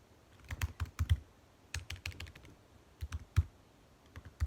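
Code is typed on a computer keyboard in quick clusters of sharp, close key clicks separated by short pauses, quiet and alone.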